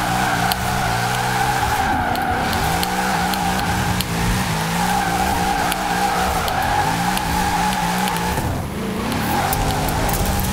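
Tires squeal continuously as a car drifts through corners in the Forza Horizon 4 racing game, set in winter, over a loud, steady engine drone with shifting pitch.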